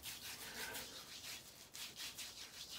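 Hands rubbing Løthur Black product into a face, soft close rhythmic scratchy strokes repeating steadily, very quiet with no other sound.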